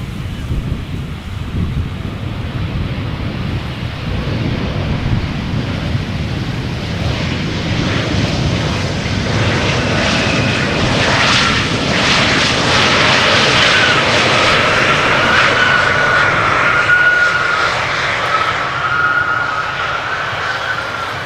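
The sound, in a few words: KLM airliner landing at Amsterdam Schiphol Airport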